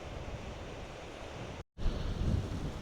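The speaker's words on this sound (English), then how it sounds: "The wind's really picked up." Strong wind blowing through Glen Nevis in Scotland, a loud continuous rushing roar with low gusty buffeting and a brief dropout near the middle.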